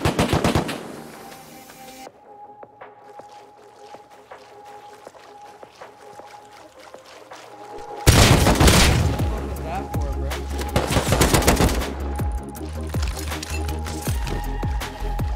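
Sustained automatic AK rifle fire in the survival video game Rust, loud rapid bursts that grow heavier and denser partway through, with players talking over the shooting.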